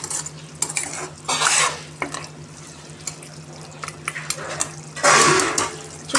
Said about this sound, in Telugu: ఇప్పుడు విజిల్ మూత తీసేసుకుందాం, పక్కన పెట్టేసుకొని.